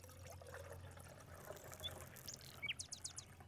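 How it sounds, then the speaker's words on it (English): Water pours quietly into a Jetboil measuring cup outdoors as a faint trickle, while close birds chirp in short, bright tweets against a low background hum. "I actually like to start by putting my water in"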